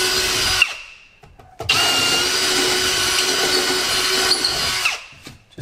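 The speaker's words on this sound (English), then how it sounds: "I'm just going to drill the holes." Power drill boring holes in a boat during a hydraulic steering installation, a loud close whine that starts, stops briefly, then runs steadily for several seconds before cutting off.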